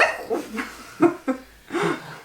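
A voice imitates a dog barking with a few short, breathy woof-like bursts spaced apart, then a longer final one.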